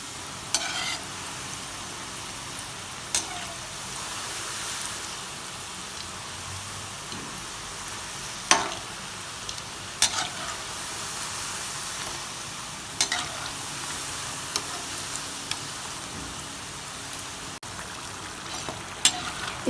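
Crispy moong dal and rice flour rings fry in oil over a low flame, giving a steady, dense sizzle with scattered pops and occasional stirring clinks throughout.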